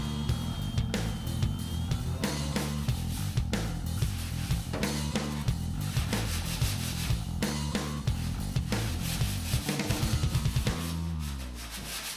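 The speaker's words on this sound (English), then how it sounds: "Hand sanding inside the air intake and the balloon assembly, it's a chore" Continuous rhythmic hand sanding of metal inside an aircraft air intake, quick back-and-forth strokes repeating steadily at close range with no talking.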